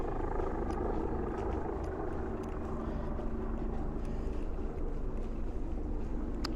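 A steady, muffled rumble of a helicopter overhead at Bath Beach, Brooklyn, New York City, constant and fairly distant, with no voices.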